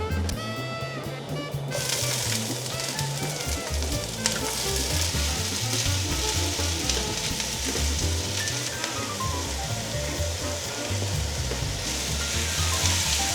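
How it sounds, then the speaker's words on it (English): Aromatics for Filipino pinakbet sizzle steadily in a hot pan, a dense continuous frying crackle with occasional stirring scrapes and clinks, close and fairly loud throughout. "What I'm gonna do is cook the aromatics and then I'll throw in the pork"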